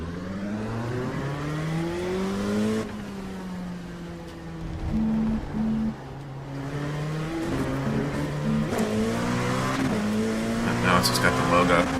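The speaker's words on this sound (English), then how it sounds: "Alright, let's let this car go by first" Race car in the iRacing sim passing by, its engine note rising and falling through gear changes over several seconds, with a brief tire squeal and a voice talking over it.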